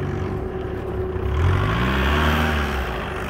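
A Bobcat T-770 engine hums nearby, then revs up into a rising, whirring drone as the machine is driven, loud and steady with no talking.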